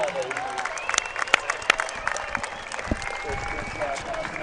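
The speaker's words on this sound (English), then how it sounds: "Let's have a round of applause for Chris Chef and his family." A crowd at a demolition derby in Plains, Montana claps and cheers, a scattered outdoor round of applause with a few sharp individual claps and whoops, while a voice talks over it.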